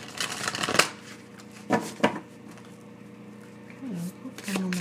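Pocket-edition Rumi oracle cards, stiff and sticking together, shuffled in a few quick riffling bursts with softer handling rustles between them, close and fairly quiet.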